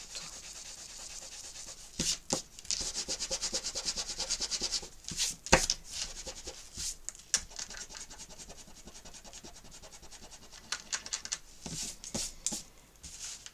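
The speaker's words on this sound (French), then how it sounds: "J'en profite pour gommer." A rubber eraser rubbing out pencil marks on paper in a scrapbook album, making soft, quiet scratchy strokes in irregular bursts with short pauses between them.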